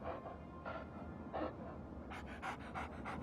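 A dog named Canigou pants quietly with quick, rhythmic breaths. The breathing speeds up into a faster run of huffs toward the end, set against a steady low background hum.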